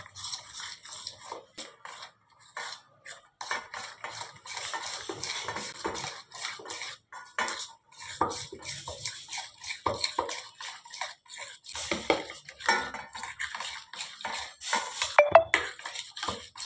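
Flour, water and salt being whisked into a batter in a bowl for vegetable chops, heard as irregular clinks and scrapes of a utensil against the bowl, soft and close with short pauses.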